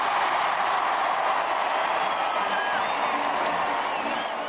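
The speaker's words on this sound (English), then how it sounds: "Again, the crowd roared its request." A large crowd packed into a square outside a royal wedding roars and cheers continuously, a dense, steady wash of voices and whoops that stays loud throughout with no pauses.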